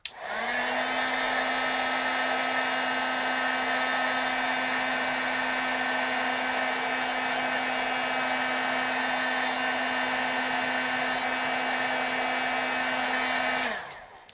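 A heat tool blows steadily on vellum stamping pieces during heat setting, a constant loud whirring hum with a tonal whine that starts abruptly, holds unchanged for about thirteen seconds, then cuts off, with no talking.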